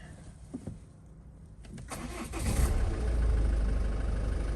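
Ford Kuga mk2 engine started and left running with the bonnet open, a few clicks and a brief crank giving way to a steady, loud low-pitched rumble that builds and holds.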